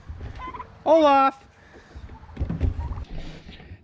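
A turkey gobbles once in a loud, rapid warbling burst close by, followed by quieter farmyard rustling and a voice calling out.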